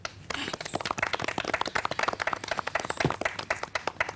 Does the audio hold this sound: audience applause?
yes